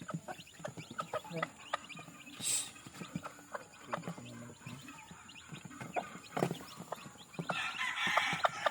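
Chickens cluck in short, irregular bursts close by, mixed with scattered clopping knocks and a rising bird call near the end.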